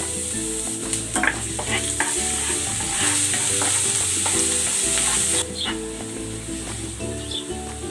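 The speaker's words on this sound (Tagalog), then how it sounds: "Igigisa ko na tong bawang." Garlic frying in hot cooking oil for chicken adobo, heard as a loud, steady hiss and crackle with clattering utensil stirs near the start and a bright sizzle that drops off partway through.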